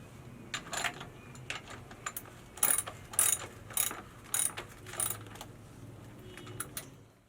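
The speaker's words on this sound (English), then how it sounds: "Then we're going to tighten them down with a 9/16 wrench, socket wrench." A socket wrench ratchets bolts tight while a variable speed pool motor is installed: a series of quick clicking bursts, about seven short rounds of ratcheting, close and fairly crisp, with no talk.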